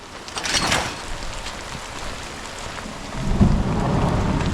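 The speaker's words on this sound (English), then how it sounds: "It's raining." Steady rain pouring over a chicken yard, a dense hiss of drops on surfaces with a low thunder-like rumble swelling near the end, no talking.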